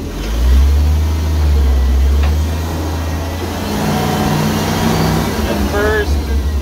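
A manual five-speed forklift's loud engine revs and idles with a steady low rumble throughout, rising in pitch near the end, while someone talks over it.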